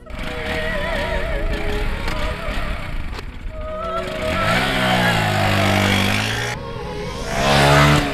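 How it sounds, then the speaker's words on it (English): A 2025 Honda Grom small-displacement motorcycle engine running close by, a steady buzzing drone that rises in pitch as it revs up twice toward the end. "the 2025 Honda Grom."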